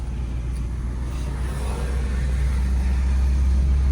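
Car engine accelerating during a driving lesson, a steady low rumble that builds slightly in loudness throughout, heard from inside the car with no speech.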